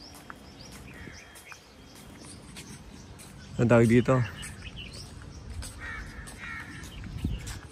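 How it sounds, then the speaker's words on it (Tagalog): Crows caw in a short burst of harsh, repeated calls on hotel grounds in Fujairah, with other birds chirping faintly in the background while a person speaks nearby. "Nandito rin yung mga ibon, tsaka iba-iba pang animals, maririnig mo."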